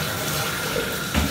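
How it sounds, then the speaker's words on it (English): Water pours steadily from a tap for a dog's bath, a close, continuous splashing hiss with a brief heavier gush near the end. "Oh, here come the water."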